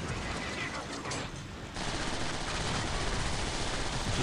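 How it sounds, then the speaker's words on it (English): An EMP shotgun fires in Transformers: War for Cybertron, a dense wall of loud, sustained blasting and crackling that runs almost without a break, dipping briefly before surging back. "The EMP shotgun then. Don't mind if I do."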